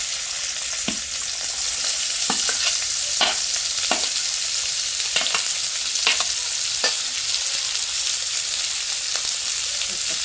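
Onions frying in oil in a pan, a continuous sizzle broken by repeated scraping stirs at an irregular rhythm, close and fairly loud.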